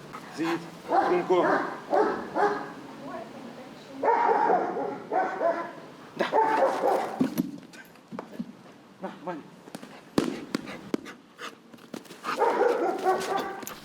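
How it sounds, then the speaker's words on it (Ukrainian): A shepherd service dog at a National Police canine center in Lviv barks repeatedly in short bursts and yips. People talk alongside and between the barks. "Вівчарку Чокі кінолог готує на заміну своєї іншої службової собаки лабрадора на кличку Чінзана"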